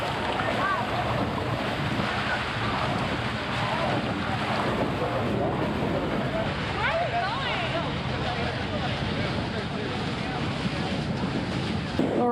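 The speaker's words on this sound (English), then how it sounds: "It's a windy day though here, windy day, but it's very clear." Strong wind buffets the microphone aboard a trimaran sailing off Playas del Coco, Costa Rica, as a loud, constant roar and rush of water along the hull that masks everything else.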